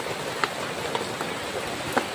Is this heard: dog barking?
no